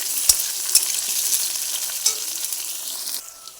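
Chopped onion and green chilies fry in a pan with a bright, continuous sizzle, broken by a few sharp clinks of stirring. The sound softens toward the end.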